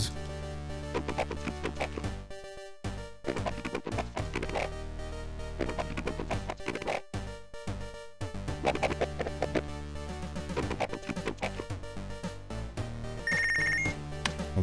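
A telephone rings in the Punch Club video game over looping game music, with a bright repeating ring near the end of the stretch.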